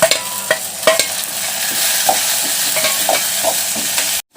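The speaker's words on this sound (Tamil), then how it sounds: "நம்ம தக்காளி வெங்காயம் வந்து சூப்பராக வந்து வதங்கிடுச்சு." Tomatoes and onions sauté in a pan, producing a loud, close, continuous sizzle with a few soft utensil knocks and stirring scrapes, no voices, before cutting off abruptly at the end.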